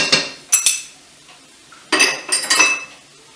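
Metal utensil scraping and clinking against a pan while minced garlic is stirred in for sweet and sour chicken, several short bursts of clatter with quiet gaps between, close and fairly loud.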